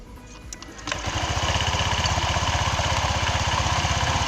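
Honda Vario 125 scooter engine starting and settling into a steady, slightly rough idle, with a loud rapid putter close by after the first second.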